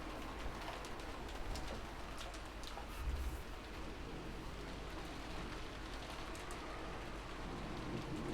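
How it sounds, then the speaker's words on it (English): Steady rain ambience from the Umineko visual novel game, a constant soft broadband wash of rainfall with faint bird-like chirps scattered on top, even in level throughout and with no voices. "disappeared beneath the sound of the rain"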